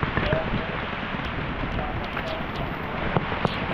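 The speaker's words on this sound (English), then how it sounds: "And man, was it pouring out there." Heavy pouring rain at an outdoor paintball event makes a steady, dense hiss with wind buffeting the microphone and occasional faint pops throughout.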